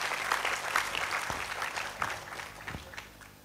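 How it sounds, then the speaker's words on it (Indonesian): Applause from the audience at a Cak Nun and KiaiKanjeng gathering, a steady wash of many hands clapping at moderate level, carrying on for several seconds with a few sharper claps standing out. "Tepuk tangan dulu untuk Cak Nun dan kita semua."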